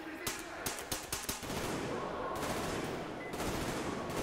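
Rapid bursts of gunfire in the video game Metro Exodus, a quick series of sharp shots early on, followed by a sustained loud noisy rumble of action.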